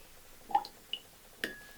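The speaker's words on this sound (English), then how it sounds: "I'm going to add a drop of water" A drop of water falls into a glass of Famous Grouse blended Scotch whisky, roughly 1990s vintage at 40% ABV, making a few soft, quiet drips and small splashes spread over about a second, with no talking.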